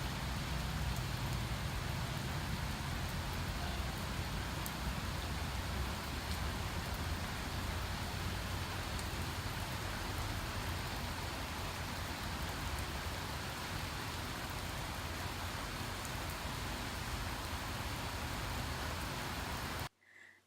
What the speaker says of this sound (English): I'm gonna let you listen to the rain for a while.